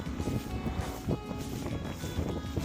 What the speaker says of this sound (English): Pretty windy today, so gotta keep this door closed.